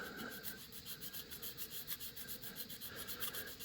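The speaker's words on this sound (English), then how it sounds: "I'm probably going to follow up with the sanding stick" A sanding stick rubbed over a 3D printed nose cone: steady, quiet, rapid back-and-forth rasping strokes of fine grit against plastic, continuous and close with no talking.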